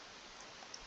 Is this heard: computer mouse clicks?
yes